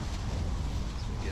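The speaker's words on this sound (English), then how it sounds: "we get some nice gusts of wind dribbling my bag there" Steady, broadband wind gusts roar into the microphone on the East River Esplanade, loud and constant throughout with no clear breaks.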